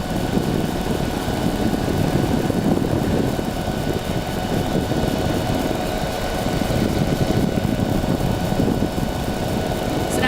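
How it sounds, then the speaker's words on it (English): A tow plane's propeller engine drones steadily and loudly as it climbs while towing a glider, a continuous, unbroken roar with no talk over it. "There's another tow plane. Yeah, he looks like he's climbing all the way up now."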